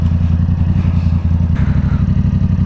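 A Yamaha R7 sport motorcycle fitted with a Yoshimura AT2 full stainless steel exhaust idles and blips close by, a loud, steady low rumble with a brief dip and fresh rev partway through.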